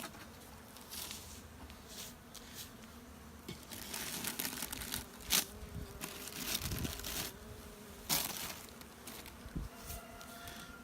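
Honey bees hum steadily inside a hive being winterized with sugar, a low continuous buzz near the microphone, broken by a few sharp rustles and taps.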